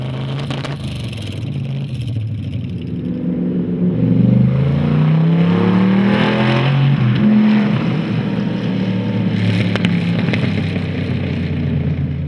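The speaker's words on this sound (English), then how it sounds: "Troy and his crew roll in with a finished hot rod, ready for a shakedown run on the racetrack" A Raybestos roadster pickup hot rod revs its engine on a racetrack during a shakedown run, the exhaust note building and surging loudly up close, then holding a steady roar with no talking.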